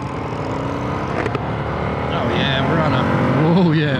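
An Indian FTR1200 R Carbon motorcycle engine revs while riding, climbing in pitch as it accelerates with a strong, steady roar over wind noise, with a rider's voice partly heard over it.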